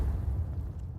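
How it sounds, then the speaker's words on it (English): Grenade blast in the Counter-Strike video game, a short low muffled boom with a rumbling tail lasting about a second, moderately loud and without talk. "Nice grenade. That's going to do significant damage."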